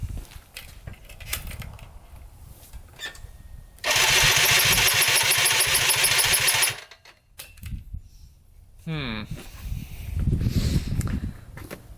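A Polaris Sportsman 90 ATV that has stopped running cranks on its electric starter in one loud, steady whirring burst of about three seconds, with clunks and handling noises before and after.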